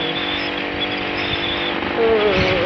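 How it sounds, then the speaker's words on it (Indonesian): A Kawasaki D-Tracker 150 dual-sport motorcycle with a manual clutch on a test ride: a steady, close engine drone with a thin whine that rises as it picks up revs near the end. "Dan sekarang aku naik motor berkopling."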